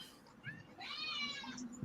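A yard cat outdoors lets out a short, faint meow with a brief chirp just before it, heard at a slight distance with light background noise and no talk over it.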